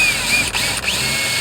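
A power drill runs steadily while boring holes in the trunk floor of a Toyota 4Runner for M6 bolts, its high motor whine close and loud, with two brief dips where the bit catches or pauses.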